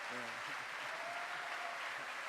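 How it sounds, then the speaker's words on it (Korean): Steady, dense applause from a large congregation at a church mission rally, filling the hall with continuous clapping while a faint voice sounds beneath it. "이 모든 박수를"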